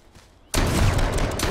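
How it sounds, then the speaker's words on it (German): A shotgun fires in the battle royale game H1Z1, one loud blast breaking a quiet moment and rolling into a sustained, dense roar. "Er schießt mit einer Schrotflinte"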